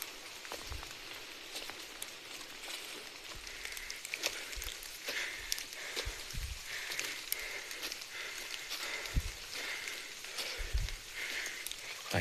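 Rain falls steadily in a forest, a dense close patter on leaves and surfaces with scattered heavier drops and low thumps throughout, and no voices.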